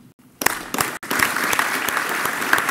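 An audience applauds at a legal book prize ceremony, starting after a brief pause and swelling into steady, dense clapping with a few sharper individual claps standing out.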